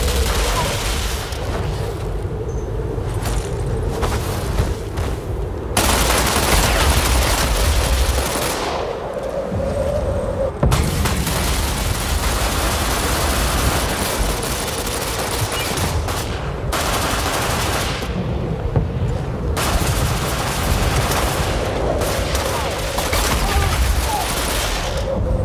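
Shots from a shooter video game ring out loud and close, with heavy bursts of shotgun fire and rapid volleys that continue with short gaps throughout.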